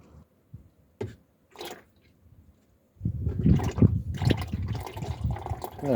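Engine oil drains from a BMW 325 TDS: a few sparse drips and clicks give way to a steady, close, splashing pour that continues to the end.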